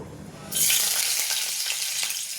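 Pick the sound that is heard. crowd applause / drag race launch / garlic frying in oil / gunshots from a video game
garlic frying in oil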